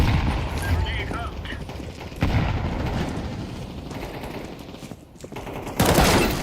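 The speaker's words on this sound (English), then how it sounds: "Grenade out." Gunfire and a grenade blast in a tactical shooter match, with dense rapid shots and booms throughout, a sharp loud burst near the end, and a voice talking over the action.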